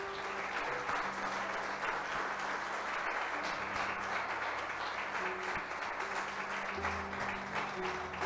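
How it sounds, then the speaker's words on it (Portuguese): A church congregation applauds in a steady, dense wash of clapping that runs the whole stretch without pausing, loud and close, with a low hum underneath. "Vamos aplaudir Jesus."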